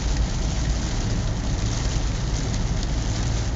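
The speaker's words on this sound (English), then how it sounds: "this rain that I'm experiencing is as bad as it's going to get." Heavy rain from Tropical Storm Andrea pours down in Florida as a steady, dense hiss with no breaks, close and fairly loud, and no voices.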